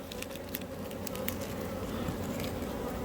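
Honeybees hum steadily and densely around an open beehive frame held up during a hive inspection, a close, continuous buzz with a few brief flickers of louder wingbeats.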